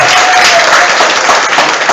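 Audience applause, a loud, dense wash of clapping from a crowd at a Christian gathering, filling the whole short span steadily.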